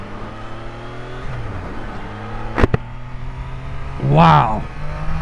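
A Triumph Daytona 660 motorcycle accelerates at full tilt, its engine rising in pitch through a surge about four seconds in. The engine note runs beneath wind noise and an excited rider's voice.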